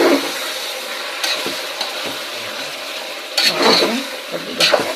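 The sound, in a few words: frying ginger garlic coriander paste in a pan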